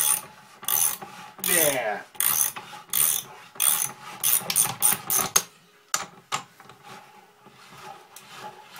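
A 3D-printed ABS vise, spray-painted gray, is cranked by hand. Loud, close ratcheting clicks and grinding come in rhythmic bursts, then looser scattered clicks. A single short word is spoken.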